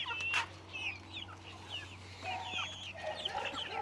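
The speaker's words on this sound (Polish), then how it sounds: "Tutaj są te kurczaki z tego roku." Young chickens from this year's brood, some of them sick, cluck softly in a coop, a few birds overlapping with short calls over a low steady hum.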